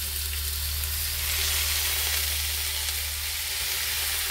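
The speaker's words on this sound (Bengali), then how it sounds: "সমস্ত পালং শাকটা আমি এর মধ্যে দিয়ে দেবো" Drained spinach dropped into a hot pan, giving a loud, steady, close sizzle over a low background hum, with no talk.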